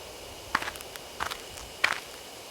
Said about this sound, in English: I hear footsteps again.